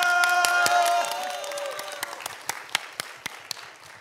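An audience at a public forum applauds warmly, dense clapping and cheering that thins to scattered individual claps as it fades out.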